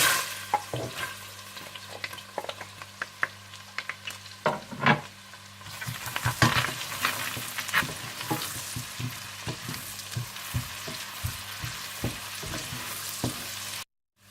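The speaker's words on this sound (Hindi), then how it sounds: "जैसे ही तेल और मक्खन गर्म हो जाए तो आप इसमें प्याज डालकर हल्के से ब्राउन कर लें" Onions sizzle and crackle steadily in hot oil and butter, with frequent stirring scrapes and clinks; the frying grows denser and louder halfway through.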